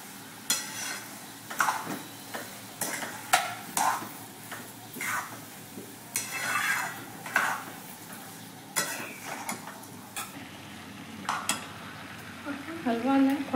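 A spoon scrapes and stirs carrot halwa with cardamom powder in a pan, making repeated clinking strokes over a faint, low sizzle, with gaps between stirs.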